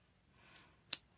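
A pair of scissors gives a single crisp snip after a brief soft rustle of handling, close and fairly quiet on a desk used for paper journal crafts.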